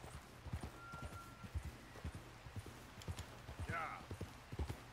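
Horse hooves clip-clop in a steady rhythmic walk in the Red Dead Redemption 2 video game, moderately close and clear, with a brief whinny-like sound near the end.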